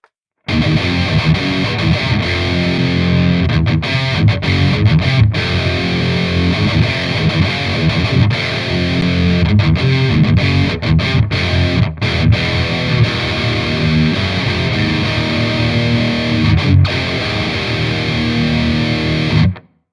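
Heavily distorted electric guitar through an Amplitube 4 amp simulator plays metal chords and riffs continuously and loudly, with a compressed, saturated amp tone and brief gaps between phrases.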